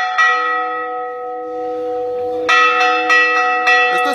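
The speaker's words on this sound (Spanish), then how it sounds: "que se estremeza la piel a escuchar la campana del pueblo" Village church bell ringing before Mass in Chalchihuites, loud, close and resonant, with a sustained ringing tone followed by several fresh strikes in quick succession.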